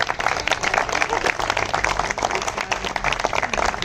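A crowd of listeners at a hunger-strike protest gathering claps in a dense, steady patter, the applause fairly close and continuous, with a voice talking over part of it.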